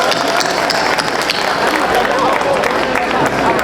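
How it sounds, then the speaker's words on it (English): A large audience at a Lunar New Year celebration opening ceremony bursts into sustained, dense applause, a loud wash of clapping from the crowd filling the room. "let's give them another round of applause"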